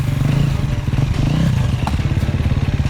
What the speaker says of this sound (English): I won't have enough momentum to simply get my bike over the log